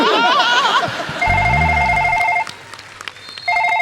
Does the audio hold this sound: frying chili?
no